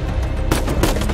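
Gunfire in the Uncharted video game: a sniper rifle shot amid a busy firefight, with two sharp broadband cracks about a third of a second apart, loud and close over a dense rumbling battle backdrop.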